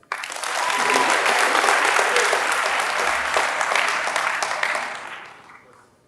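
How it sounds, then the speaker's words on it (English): An audience on a college campus claps warmly to welcome a senior giving a speech. The applause is steady and full, then fades out after about five seconds. "Everyone give it up for Abby."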